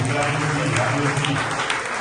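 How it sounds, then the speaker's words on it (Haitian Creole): An audience at a wedding church service claps continuously, a dense close patter of many hands with voices mixed underneath. "Applaudis, applaudis."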